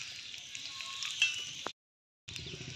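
Cinnamon and cardamom sizzling in hot oil for masoor dal, a bright continuous crackling hiss that cuts off abruptly for a moment and then resumes at similar strength.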